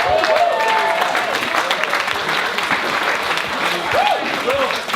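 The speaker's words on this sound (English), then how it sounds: "Another round of applause, ladies and gentlemen" Wedding guests break into loud, sustained applause, dense continuous clapping with a few voices calling out over it.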